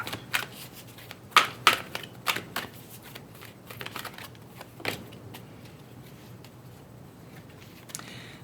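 Psychic Tarot Oracle cards being shuffled during a reading, giving a run of crisp riffling and slapping bursts in the first few seconds, then sparser soft card sounds and a final flick, fairly close with no talk.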